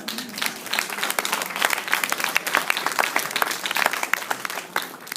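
A crowd at an African heritage celebration claps in warm, steady applause for a man nearing his seventieth birthday, with individual claps standing out through the full run.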